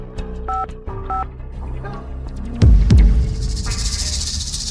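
A telephone number being dialed on a keypad, a quick series of distinct electronic DTMF tones, close and clear, followed by a thud and background noise.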